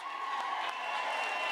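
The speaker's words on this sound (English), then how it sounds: "A round of applause," An audience at a teachers' awards ceremony gives a steady wash of applause and crowd noise, moderately loud and continuous, with some tonal whistles or voices mixed in.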